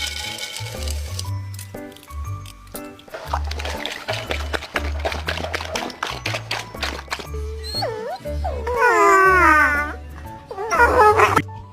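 Dogs whimper and yip before bath time: high wavering whines and short yelps, close and fairly loud, over a low rhythmic background, growing more insistent toward the end.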